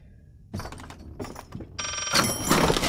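A telephone rings in the Layers of Fear horror game, preceded by a few clunks and thumps, then a bright electronic ring bursts in loudly near the end.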